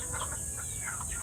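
Chickens in a circle pen cluck softly in a few scattered, faint calls over a steady background hiss.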